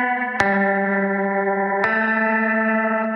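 A guitar runs through the Caelum Audio Choric chorus effect on a preset, with two struck chords ringing out with a shimmering, sustained chorused tone, loud and alone.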